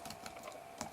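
Quick typing on a computer keyboard while writing Python code, a brief run of light, close key clicks with one slightly louder keystroke near the end.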